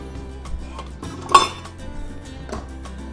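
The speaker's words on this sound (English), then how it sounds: "So I collected these cider jars or other sauce jars." Glass cider jars and sauce jars, collected for bottling homemade tomato sauce, knock together in a few close, bright clinks, with one sharper clink standing out among quieter taps.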